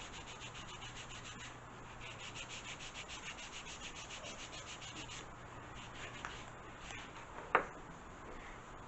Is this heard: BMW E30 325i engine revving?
no